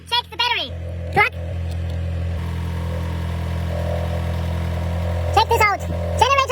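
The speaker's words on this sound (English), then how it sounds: "Start the car." A Mercedes car engine after an alternator replacement cranks, catches and settles into a steady low idle that runs throughout, with people talking briefly over it at the start and end.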